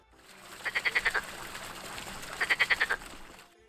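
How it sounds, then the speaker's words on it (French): Frogs croak in a park at Aix-les-Bains, two bursts of about six rapid, rhythmic croaks each, separated by a quiet pause, with a faint hum of outdoor ambience underneath. "vous allez trouver plaisir à écouter le chant des oiseaux et des grenouilles"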